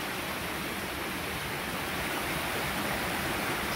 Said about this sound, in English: Waterfall that we've seen in the woods.